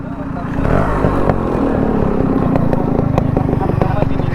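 A Yamaha RX 135 two-stroke motorcycle engine runs loud and close, a steady buzzing idle with rapid pulsing that rises and holds. Voices may be faintly audible under the engine.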